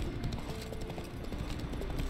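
Hooves of Roach, a horse in The Witcher 3: Wild Hunt, clip-clop in a steady, continuous rhythm at moderate loudness, with no talking over them.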